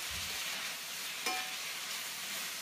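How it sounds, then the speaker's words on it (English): Chopped vegetables stir-frying in a pan give a soft, steady sizzle and hiss with faint scraping, plus one brief clink midway, heard alone and fairly quiet. "So tip in the chopped vegetables and stir these around for a few minutes so they can all warm up."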